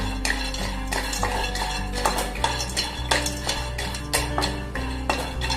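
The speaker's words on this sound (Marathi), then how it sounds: "कढई गरम झाली बदाम टाकते आधी थोडे हलके परतून घेऊ आपण यांना" Almonds roasting in a hot, thick-bottomed kadhai, stirred with a metal spoon that scrapes and clinks against the pan in a steady, close, loud rhythm, with a low hum behind and no talk.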